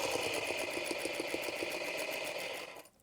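A sewing machine stitching a seam with rickrack trim, a steady fast close mechanical whir with rapid needle ticking that slows and stops at the end.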